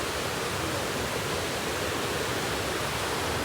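Steady, dense rushing of a mountain river (khola) on a trekking route, a broadband roar that stays even and unbroken throughout, with no voices.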